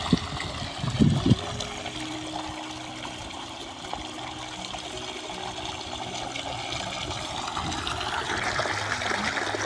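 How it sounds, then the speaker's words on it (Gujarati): Water from a motor pump runs into a cumin field, a steady trickling flow that holds faintly throughout, with a few soft knocks near the start and no one talking. "મોટર ચાલુ થઈ ગઈ, પાણી આવી ગયું અને જીરામાં પાણી ચાલુ કરી દીધું"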